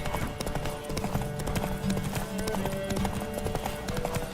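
Steady rhythmic hoofbeats of a galloping horse in The Witcher 3: Wild Hunt, clear and continuous over a low background with faint game-like tones.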